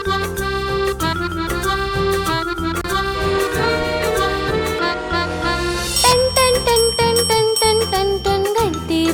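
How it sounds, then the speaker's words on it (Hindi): A bell rings in repeated bright ting-ting strokes, set in a Hindi children's rhyme about the sounds of animals and objects, over a steady rhythmic music backing that grows fuller partway through. "घंटी बजती टन टन टन"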